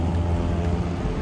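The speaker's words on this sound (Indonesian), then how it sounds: "Ini pinggir jalan ring road, jadi rame banget." Steady roadside traffic on a busy ring road, a dense continuous low rumble of passing vehicles with no gaps, loud and close, with no voices.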